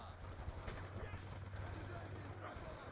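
Gunfire aimed at the player in a Wii U shooter game comes as quick, faint bursts of shots mixed with other game noise.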